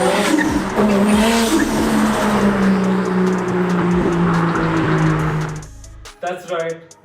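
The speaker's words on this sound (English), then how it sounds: "It's none other than the original Toyota Supra, which came down to the Indian market about 20 years ago with its 6-cylinder 3-liter turbocharged petrol engine." Original Toyota Supra with a 3-liter turbocharged six-cylinder petrol engine driving on a Mumbai street, a loud, rising engine roar up close with tire noise, fading abruptly near the end as voices talk.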